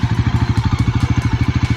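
Bajaj Pulsar NS400Z motorcycle engine idling steadily close by, a rapid even low thump that stays constant throughout with a faint mechanical clatter on top and no talking.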